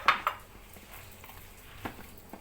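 Coconut milk being mixed into kuih talam sago pearl batter in a bowl, a couple of sharp utensil clinks against the bowl at the start, then softer scraping and stirring sounds, close and fairly quiet.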